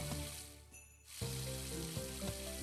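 A watering can pours onto a field in the Harvest Moon video game, a steady hissing splash with a brief gap in the middle and light tonal game music underneath.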